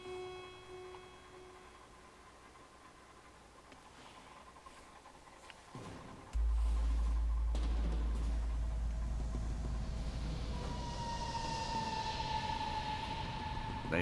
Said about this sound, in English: Her words trailed away as the deck sirens wailed.